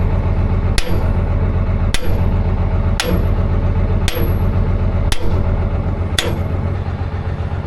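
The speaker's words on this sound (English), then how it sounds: "The next thing we got to do is break this collar off the tubing." Six evenly spaced, ringing hammer blows on a steel collar threaded onto well tubing, each sharp strike about a second apart over a steady rumbling engine drone.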